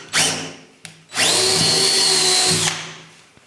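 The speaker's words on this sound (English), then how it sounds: "So I'm going to drill a pilot hole." A power drill bores a pilot hole on a model railway layout for an electrofrog point motor: a brief whir, a click, then a longer steady high-pitched run of about a second and a half, close and clear.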